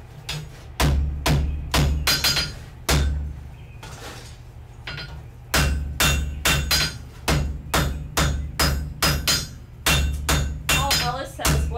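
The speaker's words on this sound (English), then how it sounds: "So we're going to go back to the anvil, Jess." A hammer strikes hot wrought iron on an anvil: loud, close, ringing metallic blows in rapid rhythmic bursts, separated by a few short pauses, each blow decaying with a sustained low ring; no talking.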